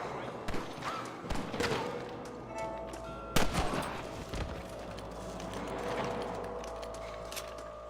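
Gunfire rings out in the Red Dead Redemption video game: several sharp cracks land in the first half, with one loud report near the middle, over a low rumbling game backdrop.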